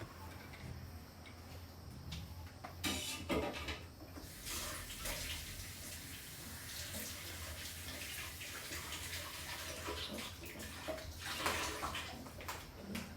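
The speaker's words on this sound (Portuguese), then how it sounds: "Água quente é a melhor coisa para limpar chocolate, né?" Hot water pours steadily from a tap to rinse chocolate off utensils, a continuous hiss of running water with a few louder splashy bursts as items pass under the stream.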